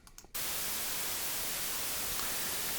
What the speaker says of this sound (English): We can also fire up some noise to see what's happening there